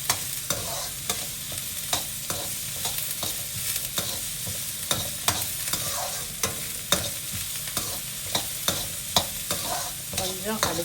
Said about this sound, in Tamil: பாதி வெங்காயம் போட்டால் போதும், வெங்காயம் நிறைய போட வேண்டியதில்லை. அது நல்லா வதங்கிடட்டும்.